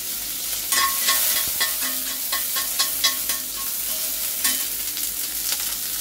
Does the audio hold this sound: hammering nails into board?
no